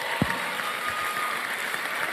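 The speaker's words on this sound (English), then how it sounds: "I thought you would clap." A seated audience at a masterclass announcement breaks into steady, continuous applause, even and sustained throughout the moment.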